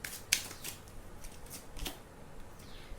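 Tarot cards are shuffled and handled up close, quiet papery riffles and light flicks with one sharper snap near the start, soft and intermittent.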